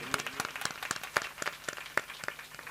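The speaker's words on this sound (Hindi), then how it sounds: "एक बार जोरदार ताली" An audience claps during a Shrimad Bhagwat Katha religious discourse: a crowd of sharp, scattered handclaps, fairly close and steady for a few seconds, with faint voices underneath.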